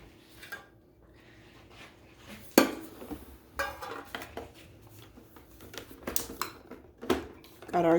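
Chocolate chips are mixed into paleo brownie batter in a bowl, heard as a spoon scraping and clinking against the bowl in irregular knocks, with a voice talking over the stirring.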